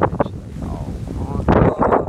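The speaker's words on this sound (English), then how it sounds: "I'm so sorry if it's windy." Outdoor wind buffets the microphone in low rumbling gusts that swell and fade, with someone talking over it at the start and end.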